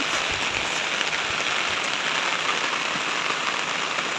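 Steady, dense hiss of rain pouring onto a surface, constant and fairly loud throughout with no voices.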